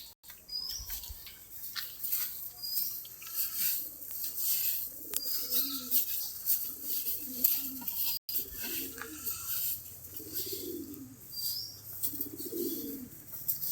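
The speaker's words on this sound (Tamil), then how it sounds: "புறாலாம் மேய்ஞ்சிக்கிட்டு இருக்கு" Caged pigeons coo steadily in a series of low, soft throaty calls, repeating every second or two over faint background hiss and occasional clicks and rustles from the cage, with no talk.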